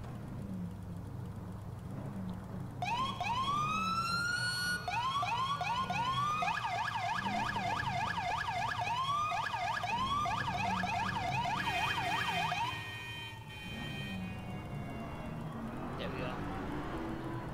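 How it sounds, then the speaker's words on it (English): An ambulance siren in GTA IV wails, sweeping up and down in rapid cycles, loud and near, then fades as the ambulance passes, with a voice talking underneath. "an ambulance comes by me"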